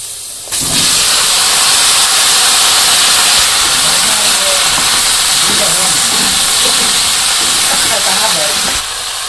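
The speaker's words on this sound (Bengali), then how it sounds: "এখন জিরা দিয়ে দিই তেলে, সবজিগুলো দিয়ে দিই" Cumin seeds and vegetables dropped into hot oil, right after fish was fried, give a loud, steady hiss of sizzling that carries on close up for several seconds.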